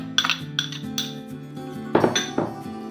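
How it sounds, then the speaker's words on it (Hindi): Chopped onions tipped into a bowl for aloo pakora batter, heard as a quick series of close clinks and taps of a utensil against the bowl, with two louder knocks toward the end. "इसमें कटे हुए प्याज ऐड कर देंगे"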